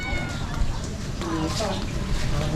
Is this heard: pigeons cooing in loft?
no